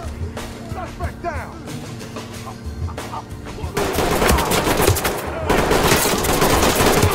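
A 300 Blackout rifle fires in the Ready or Not home invasion maps. A few sparse shots come first, then dense rapid bursts grow louder through the second half, with a voice speaking in parts.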